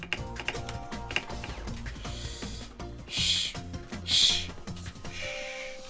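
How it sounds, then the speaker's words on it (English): Computer keyboard keys clatter in quick, uneven bursts during gameplay of Runner 2, with dense game music and sound effects running underneath and two brief brighter flourishes midway. "Alright, this is on my keyboard."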